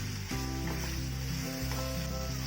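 Chili chapati masala frying over a high flame, a steady close sizzle with faint stirring and pan scrapes running throughout, no voices.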